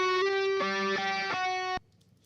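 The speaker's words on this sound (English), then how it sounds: "Chorus makes it a little more spacey" Music mix with a chorus effect applied: sustained, shimmering harmonic tones changing pitch in a few steps, played alone before cutting off abruptly into near silence.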